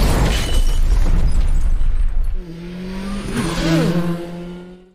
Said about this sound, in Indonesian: Setelah itu, ia pun meledakkan rumahnya dengan tujuan untuk menghilangkan